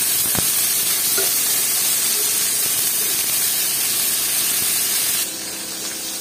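Snake gourd fries with egg in a pan, producing a loud, dense hissing sizzle throughout with a few faint stirring knocks; the hiss drops slightly near the end.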